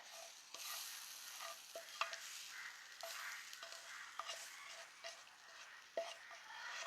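Roasted spice mix is stirred into a beef and yam curry, with a soft, continuous sizzle and repeated scraping strokes of a spoon in the pan, fairly quiet and close, with no talking.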